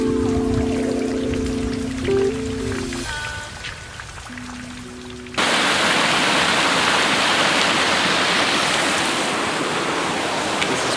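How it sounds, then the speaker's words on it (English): Heavy rain falls near a waterfall, a loud dense roar and hiss that suddenly swells to full strength partway through, after a calmer stretch with scattered droplet sounds and faint tones. "I'm getting like water all over my camera because it's raining right now"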